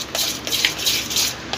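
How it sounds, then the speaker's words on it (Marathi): Rava (semolina) uttapam batter is whisked briskly in a bowl, giving a quick run of rhythmic scraping clinks close by, with no talk. "चांगलं फेटून घ्यायचं आहे"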